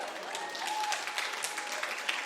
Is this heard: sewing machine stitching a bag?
no